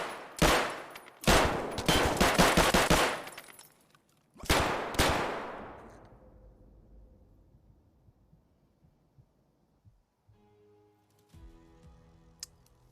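Close, loud gunfire in Escape from Tarkov: a short burst, then a longer rapid automatic volley, a pause and another burst that rings off into a fading tail, followed by faint ticking in-game sounds.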